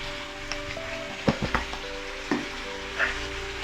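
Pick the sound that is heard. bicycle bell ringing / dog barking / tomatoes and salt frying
tomatoes and salt frying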